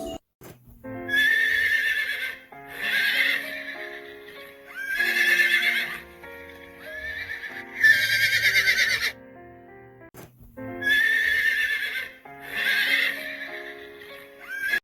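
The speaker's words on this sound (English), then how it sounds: "Farda, horse" A horse neighs repeatedly, several loud whinnies separated by short pauses, sounding close and clear with nothing else around.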